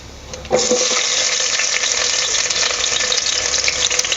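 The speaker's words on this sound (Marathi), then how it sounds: "तेल गरम झाले की ना पटकन परतला जातो तर आता आपण ह्यामध्ये घालूया कांदा" Sliced onion hitting hot oil for chicken biryani, a sudden loud sizzle that bursts in after a short quiet lead-in and keeps crackling steadily up close.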